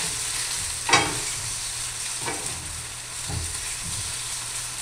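Potatoes brown in hot oil, sizzling steadily while two wooden spoons stir them, with several soft scraping strokes heard close over the constant frying hiss and no talking.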